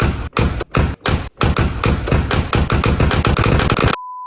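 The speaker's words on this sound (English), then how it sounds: "Here's a compilation of me closing the door 100 times." The door of a Mercedes G500 4x4 Squared slams shut again and again in quick succession, each heavy thud following close on the last, near and loud.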